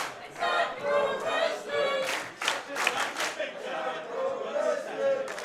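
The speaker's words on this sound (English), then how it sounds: "And this crowd showing what they feel about this action." A pro wrestling crowd at an ATTACK! Pro match cheers and shouts loudly, with bursts of clapping and thuds from the ring rising and falling throughout.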